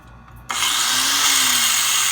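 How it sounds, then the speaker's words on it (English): A power grinder bites into a broken screwdriver tip stuck in the axle nut of a Honda Civic EF wagon, starting suddenly after a quiet moment and then running loud and continuous, close by. "So I'm gonna keep just grinding until I get there, and then hopefully this thing will come off."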